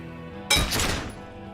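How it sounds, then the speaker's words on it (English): A single sharp pistol gunshot in the video game Disco Elysium cracks out of near silence, followed by a short ringing metallic tail that fades within about half a second. "A small explosion expels the bullet from the chamber."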